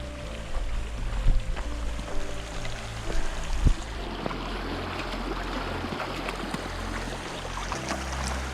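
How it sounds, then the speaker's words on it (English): Water flows steadily in a stream beside a hiking trail near Snowmass Village, a continuous broadband rush with a few brief knocks, fairly close and without speech. "I hear water."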